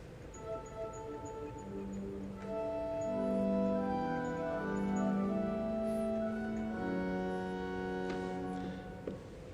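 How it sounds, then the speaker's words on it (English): A pipe organ at Notre Dame sounds its string-family stops in sustained chords, rich and bright, swelling in the middle and then fading, with no voices over them. "The third family of stops is the string family,"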